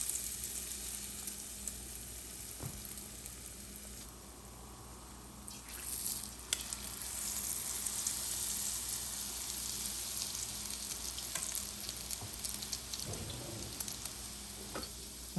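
Shrimp egg foo young deep frying in a fryer of oil makes a continuous dense crackling sizzle like light rain, with a brief louder bubbling burst near the end.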